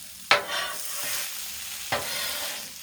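Pork fried rice sizzles on a Blackstone griddle in a steady close hiss, broken by two sharp spatula scrapes or clanks, with no speech.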